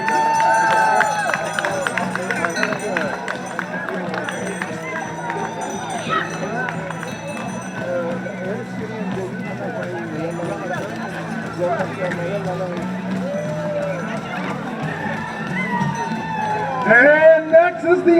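Crowd noise from spectators at a One World Day parade of flags, a steady dense babble of voices and cheering that lasts throughout, swelling louder near the end.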